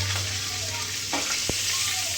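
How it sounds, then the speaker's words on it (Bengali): Hilsa fish heads rubbed with salt and turmeric sizzle in hot oil in a wok, a steady close frying hiss with occasional pops and a brief utensil clink. "কড়াইয়ে তেল দিলাম, তাতে লবণ হলুদ মাখিয়ে ইলিশ মাছের মাথাগুলো ভাজা হয়ে গেছে"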